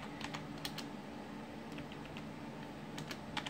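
Rapid, irregular clicking of keys on a computer keyboard runs continuously and close up throughout, with no speech over it.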